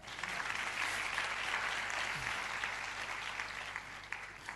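A church congregation applauding together, a dense, steady wash of clapping that holds at an even level throughout, with no voices rising above it.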